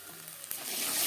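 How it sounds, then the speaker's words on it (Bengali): Panch phoron whole spices hitting hot oil in a wok, a steady bright hiss that swells louder toward the end, with a few faint pops and crackles, close and without voices. "আলু ফুলকপি ভেজে নেওয়া কড়াইতে আবারও তেল দিয়েছি, ফোড়নে দিয়ে দিলাম"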